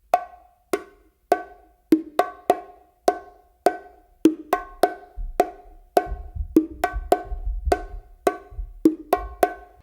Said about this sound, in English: So to just play it just 1, 2, 3, 4 and just doing that 1 accented hit